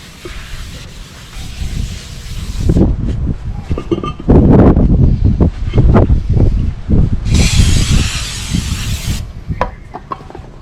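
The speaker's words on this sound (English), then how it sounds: "Cleaning up my rotor. Do some brake clean." Aerosol brake cleaner hisses onto a Toyota Corolla brake rotor in two loud, steady sprays separated by clattering handling noises and thumps close by.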